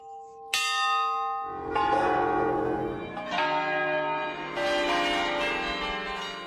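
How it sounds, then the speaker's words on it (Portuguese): Church bells of several churches in Brazil peal loudly and continuously, marking a new pope's election, several bells overlapping in a rich, ringing clang that swells and sustains throughout. "Os sinos tocaram pontualmente em várias igrejas do país."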